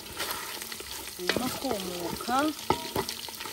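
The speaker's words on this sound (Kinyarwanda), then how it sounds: "ndabona ko nabanje amavuta mu isafuriya, inyama zacu turimo kuzikaranga" Meat sizzles and crackles in hot oil in a saucepan during village outdoor cooking, with stirring scrapes and a few brief voice-like tones over the frying.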